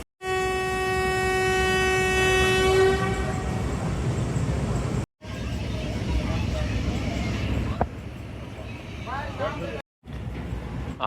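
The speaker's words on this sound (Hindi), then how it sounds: "आठ बज के 2 मिनट पर तकरीबन 2 मिनट लेट हमारा डिपार्चर हो रहा है सरगोदा जंक्शन स्टेशन से।" Chenab Express train with six coaches departing Sargodha Junction station: a long, loud horn blast over steady rail rumble and clatter that continues as the train moves off, with voices in the background.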